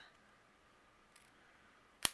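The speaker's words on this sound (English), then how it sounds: "I can use my scissors and just trim this" Scissors trim cardstock during handmade card making with a single sharp, close snip near the end after a quiet stretch.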